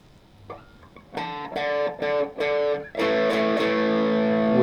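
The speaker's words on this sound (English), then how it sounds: "Now if I switch on my overdrive pedal," Electric guitar harmonics played through an overdrive pedal ring out as a run of bright, sustained chiming notes, each struck separately, then a final longer ringing chord, loud and alone.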